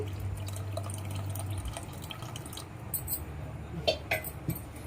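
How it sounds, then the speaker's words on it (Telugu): Tamarind water trickles and splashes into a pot of sambar, quiet at first, then a few louder drips and clinks toward the end. "ఆ చింతపండు వాటర్ పోసేసుకోవాలండి"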